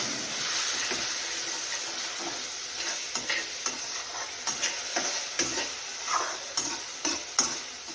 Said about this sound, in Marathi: गरम मसालामध्ये थोडस पाणी ओतून घेऊया आणि हा मसाला मस्त शिजवून घेऊया